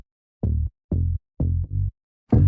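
Deep synthesized sub bass notes, four short sustained pulses in a steady rhythm, low and round with little high content, alone without talk.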